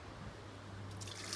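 Hot, not-quite-boiling water poured into a cafetiere at an outdoor cooking setup, a soft steady liquid pour heard close and quiet, with no talk.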